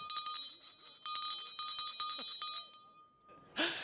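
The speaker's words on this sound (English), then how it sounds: "here is Kelly Slater ringing the bell again" A hand bell rings rapidly and repeatedly, bright and metallic but faint, then stops, followed by a brief rustling burst.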